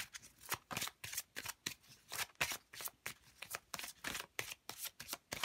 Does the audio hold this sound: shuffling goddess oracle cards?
yes